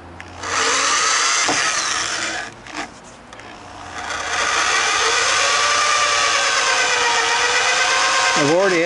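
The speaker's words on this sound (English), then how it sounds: "the very first thing I'm going to do is I'm going to drill a pilot hole." A power drill bores a pilot hole into a steel axle during a spring-to-torsion axle conversion, a loud grinding, scraping whine that pauses briefly, then resumes and holds steady. A speaker talks partway through.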